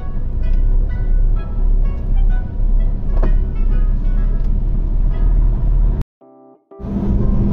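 Long-haul truck cruising over the Yokohama Bay Bridge near Daikoku Junction, a steady loud road rumble and engine drone heard up close from inside the cab, cut by a brief drop-out with tones near the end.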